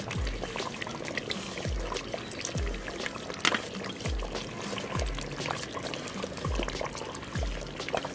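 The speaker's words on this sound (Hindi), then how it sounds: "यहाँ पे प्याज डाल दी मैंने" Chopped onions go into a simmering pot of chicken korma with a soft, wet patter, then a steady churning and bubbling with repeated low thumps of stirring throughout.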